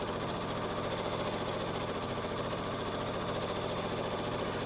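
A sewing machine runs steadily while quilting circles, its needle producing a fast, even mechanical chatter that carries unbroken from start to finish at a close, moderate level.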